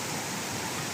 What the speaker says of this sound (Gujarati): જો કેટલું પાણી આવે છે.